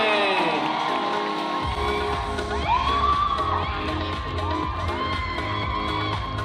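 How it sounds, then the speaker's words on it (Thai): A crowd at a Miss Grand Bangkok beauty pageant event cheers, whoops and claps loudly after an announcer, with high shouts and yells riding over steady, dense applause. "ขอเสียงปรบมือ"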